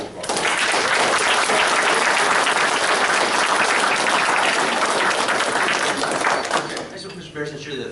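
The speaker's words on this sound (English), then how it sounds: "they like to clap for you" Audience applause fills a Butte County Board of Supervisors meeting on the State of Jefferson, a loud, dense, steady clapping that holds for about seven seconds before thinning out, with a voice briefly audible as it fades.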